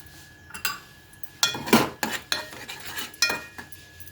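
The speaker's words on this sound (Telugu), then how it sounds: "చింతపండు గొజ్జు ఉడకబెడుతున్నానండి." Tamarind paste cooks in a pot while a utensil scrapes and clinks against the metal, giving several short bursts of stirring over a faint simmer, with no voices.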